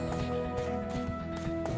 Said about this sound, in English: now I've turned a horse around